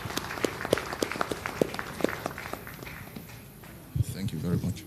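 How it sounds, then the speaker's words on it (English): Scattered claps ring out from an audience at a launch event, distinct individual hand strikes over the first few seconds, thinning out before a voice begins speaking near the end. "A warm round of applause for him."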